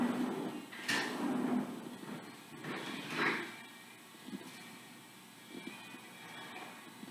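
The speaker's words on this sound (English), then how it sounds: "I'm going to go ahead and put these in the drawer where they're supposed to go." Large kitchen utensils set into a drawer while a dishwasher is unloaded, a few close metallic clatters and a sliding drawer scrape, followed by quieter scattered knocks.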